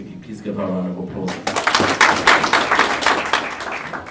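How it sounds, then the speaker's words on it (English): Audience applause at the inaugural Tshipidi Mentorship Program graduation ceremony in Botswana: a voice is briefly heard first, then a dense, steady burst of many hands clapping fills the room for several seconds. "Please give her a round of applause."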